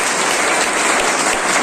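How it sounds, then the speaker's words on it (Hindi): Loud, steady applause from a seminar audience in a hall in Raghogarh, a dense unbroken clatter of many hands filling the whole moment with no voices. "तो उनके लिए एक बार और जोरदार तालियां।"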